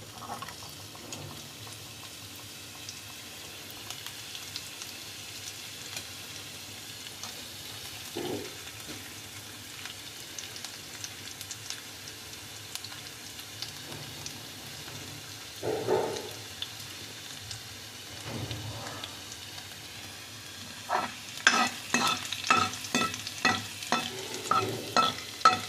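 Cumin and ginger frying in hot oil while tempering spiced saag greens in a home kitchen, a steady sizzle with occasional stirring scrapes, growing into a louder burst of sputtering crackles near the end.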